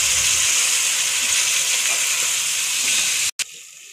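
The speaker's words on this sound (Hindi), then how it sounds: "पालक को अच्छे से भूनना है मेरी प्यारी बहन।" Boiled spinach frying in a pan, a loud steady sizzle and hiss with faint stirring, cut off abruptly near the end.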